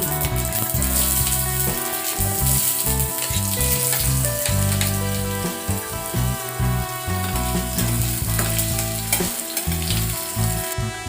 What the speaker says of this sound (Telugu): చేసి పెట్టుకున్న ఆలు వేసుకోండి